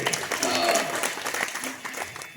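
Audience applause at a Marathi devotional kirtan gathering, a steady wash of clapping that stays fairly even for the full stretch, with a voice faintly mixed in.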